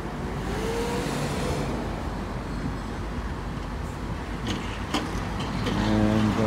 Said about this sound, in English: And the traffic's moving fairly slowly.